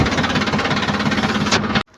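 A tractor engine runs close and loud with a rough, pulsing mechanical throb that is steady for most of the stretch, then cuts off abruptly near the end.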